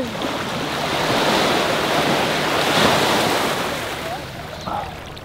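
Ocean surf breaking on a beach during a picnic, a loud continuous wash of waves with wind buffeting the microphone, while people talk and shout over it.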